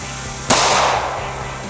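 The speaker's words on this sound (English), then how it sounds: "Let's get it shot. Okay, here we go with that critical defense light 38." A single sharp gunshot from a .38 Special revolver firing Critical Defense Lite ammunition into ballistic gel, loud and close, its report decaying over about a second.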